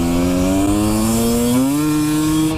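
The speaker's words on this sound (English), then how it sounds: "The sound of two-strokes. Do they sound great or what?" A KTM 250 TPI two-stroke dirt bike being ridden, its engine a loud, close, buzzing drone held fairly steady with a slight rise in pitch partway through.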